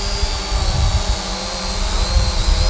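An Eachine E520s drone hovers and yaws, giving a loud, steady whirring motor drone with a high whine, close to the microphone and with no talking.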